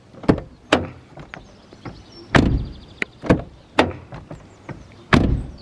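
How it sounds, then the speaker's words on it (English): A BMW 1 Series car door with a fault that stops it holding open swings back and forth, giving a string of sharp knocks and clunks at uneven intervals, with no voices. "the door does not hold properly"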